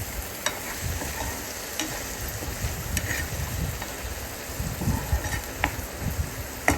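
Salt is stirred into a mango and small fish curry frying in a pan. A continuous close sizzle runs under repeated scraping strokes of a spoon against the pan, with occasional sharp clicks and no voices.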